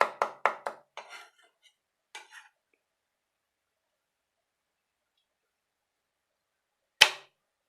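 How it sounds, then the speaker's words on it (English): A knife smashes garlic for a Naga goat intestine and tripe curry, then chops it roughly. A quick run of sharp, close thuds and chops fades out, followed by silence and one final loud knock. "Smash it this way and roughly chop it like this"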